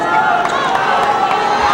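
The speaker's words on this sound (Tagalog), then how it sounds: "And what a crowd we have here today." A packed arena crowd roars and cheers at a 1999 PBA basketball finals game between San Miguel and Shell. The broad, steady wash of crowd noise runs without a break beneath a commentator's voice.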